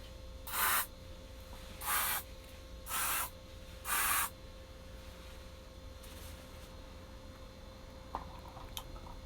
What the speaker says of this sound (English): had to spray my room